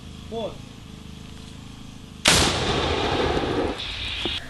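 A brief shout of "Fire!", then one sudden loud blast from a Ukrainian forces' grenade launcher firing at the enemy, followed by a long rumbling, hissing tail that slowly fades.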